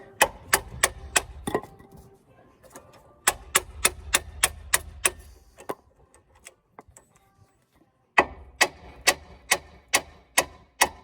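Sharp metallic hammer blows drive a ball joint splitter on a 2010 Ford Focus Mk2 front wishbone, in rapid, regular bursts, several strikes per group with short pauses between, loud and close.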